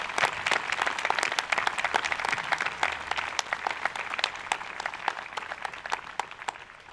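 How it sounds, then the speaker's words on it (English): A crowd at a Veterans' Day ceremony in Falmouth applauds steadily for several seconds, with many hands clapping in a dense, even patter at moderate distance. "Please join me in a round of applause."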